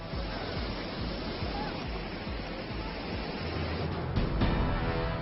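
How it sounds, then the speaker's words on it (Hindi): The Alaknanda river in flood after heavy rain at Rudraprayag, a steady, loud roar of rushing water with no pauses, holding a broad wash of noise throughout. "रुद्रप्रयाग में विकराल रूप में बह रही है अलकनंदा"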